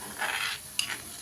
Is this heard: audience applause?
no